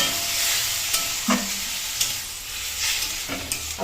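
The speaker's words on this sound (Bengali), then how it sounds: "এবার দেবো জল।" Water poured into a hot, sizzling pan of beetroot mash with turmeric, giving a steady broad hiss with a few brief clinks and bumps throughout.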